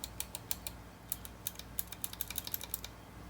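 Rapid, crisp clicking of Fosen Milk Green mechanical keyboard switches being typed on, a steady run of sharp, close keystrokes with no talking.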